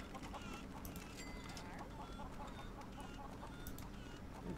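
Chickens in the LEGO Worlds video game cluck and squawk repeatedly as a busy, continuous background of game sounds, with no talk over them.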